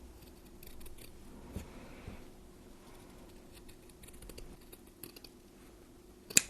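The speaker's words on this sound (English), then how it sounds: "I'm now going to trim the felt all around the edge" Scissors trim felt around the edge of a handmade flag, giving quiet, close snipping and cloth rustling, with a sharper click near the end.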